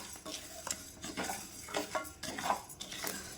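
Barley being fried in a pan with continuous stirring, the spoon scraping and clinking against the metal at an irregular pace over a faint sizzle, close by with no talking.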